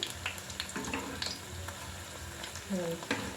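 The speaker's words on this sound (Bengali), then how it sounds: "এরকম লাল করে সব প্রত্যেকটা স্টিক আমি এরকম করে ভেজে নেব" Chicken sticks deep-frying in hot oil give a steady close sizzle and crackle, with brief clinks of utensils and water-like bubbling near the end.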